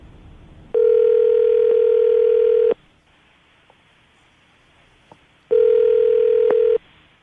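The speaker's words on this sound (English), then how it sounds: "I'm going to dial the phone number right now, see if we can get her on the phone" A telephone line gives two long steady tones while a phone number is dialed, each lasting about two seconds, separated by a quiet gap with faint clicks, loud and close with no talking.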